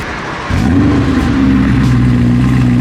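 A BMW E92 M3's V8 engine fires into a loud, sustained rev after a brief quieter moment, holding a deep, steady roar close by until the end.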